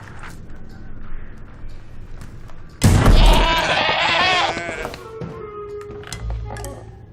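A goat bleats loudly in a Goat Simulator 3 game trailer, a sudden harsh cry that bursts in midway over a noisy game soundtrack with clattering effects, then fades back into background sounds.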